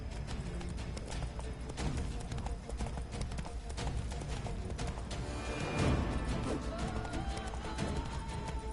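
Hooves of the horse Roach clip-clop at a steady gallop in The Witcher 3, a continuous rhythmic pounding close by, with a brief louder surge midway and faint voice-like sounds in the mix.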